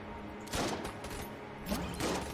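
Zilla Shotgun firing Helix Bullets in Enter the Gungeon: two sharp bursts of stacked shotgun blasts about a second apart, each a crackling spread of shots over a low game backdrop.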